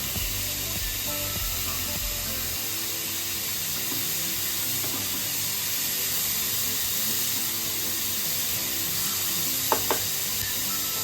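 Chopped potatoes fry in a pan of oil for spicy Mumbai masala pav, giving a steady, loud, close sizzle throughout, with a few faint clinks near the end.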